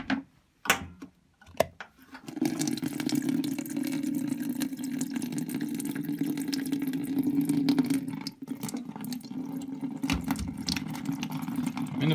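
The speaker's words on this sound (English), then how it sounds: "We'll open that up and drain it into a bucket." Water drains from the hose of a Bosch Varioperfect washing machine into a bucket. A few clicks and knocks come first, then a steady splashing, trickling flow runs close by until the end.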